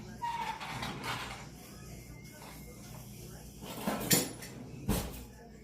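Metal kitchen utensils clink and rattle as someone rummages through them for a lime squeezer, with a couple of sharper clatters near the end and some background movement.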